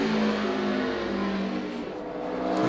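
NASCAR Sprint Cup stock car engine on a qualifying lap at Richmond, a steady loud roaring drone that holds throughout with a slight dip and swell in pitch as the car works through the lap.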